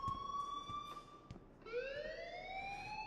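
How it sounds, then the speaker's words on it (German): A steady electronic alarm rings in the video game Life is Strange, a sustained tone that jumps in pitch partway through and keeps sounding at moderate loudness with faint background noise. "please turn off that alarm since that's your job"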